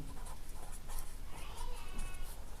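Pen scratching across paper while a step of a linear programming maths solution is written out, a steady close scratchy texture running throughout with faint background noise.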